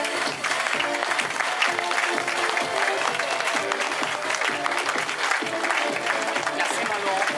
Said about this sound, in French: Madame, monsieur, vos applaudissements à Anouska Koster.